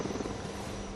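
Indian Light Combat Helicopter Prachand flying overhead, a loud, steady rotor and turbine roar that fills the moment without pause or voices.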